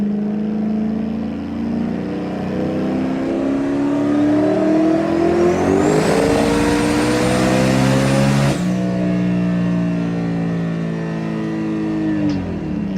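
A car engine on a dyno revs steadily upward to a high peak, then drops back and holds, loud and close with a continuous roaring whine and no talk.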